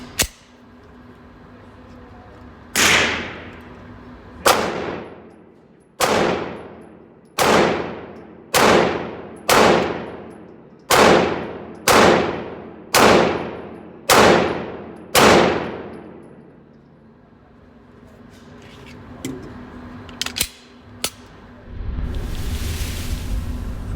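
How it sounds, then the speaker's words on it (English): A Glock 19 Gen 4 pistol fitted with a CAA Micro Conversion Kit fires eleven loud, close shots at a steady, unhurried pace, each with a ringing tail, followed by fainter clatter and noise. "Here's the first 100 rounds for this Glock 19. First 10 rounds at 15 feet."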